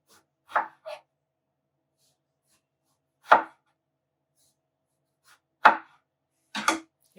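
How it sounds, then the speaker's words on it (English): A knife strips the purple skin from an eggplant in a few short, crisp scraping strokes, some in quick pairs, separated by silent pauses, close and clear with no talking. "I take all the skin off of the eggplant."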